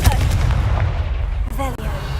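A Confringo spell blast in Hogwarts Legacy lands as a heavy booming impact with a rumbling tail, followed by a short voice.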